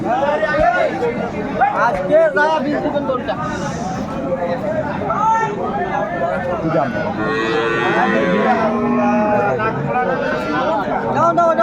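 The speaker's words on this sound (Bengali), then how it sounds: "বেশ সুন্দর গাভী বাছুর কোয়ালিটি সম্পন্ন" A cow with her calf moos loudly at a busy cattle market, the long calls coming several times over continuous crowd chatter and nearby talking.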